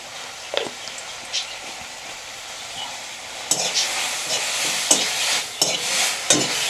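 Vegetable hummingbird tree flowers sizzling in a pan while a utensil scrapes and clatters through them in sharp irregular strokes, close and fairly loud.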